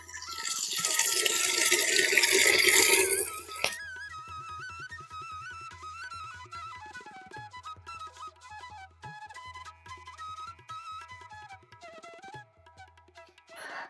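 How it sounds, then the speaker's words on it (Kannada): Water is poured into a mixture of leaves for a homemade organic farming remedy, giving a loud, rushing splash for about three and a half seconds before it stops and music carries on alone. "ಅದಕ್ಕೆ ಸ್ವಲ್ಪ ನೀರು ಹಾಕಬೇಕು"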